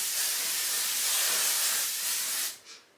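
A long, continuous aerosol hair spray hisses close by for over two seconds, then stops, followed by a short second puff.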